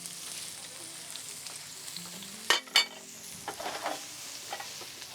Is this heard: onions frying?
yes